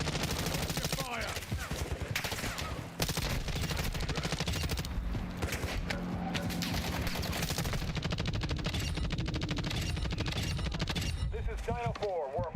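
Rapid automatic gunfire in Call of Duty Black Ops 6, dense bursts and single cracks rattling nearly nonstop, close and loud, with game voices calling out between shots.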